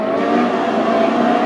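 A Ferrari Challenge race car drives at speed around the Hockenheim circuit, its engine a steady, loud, sustained roar throughout with no break and no talk audible.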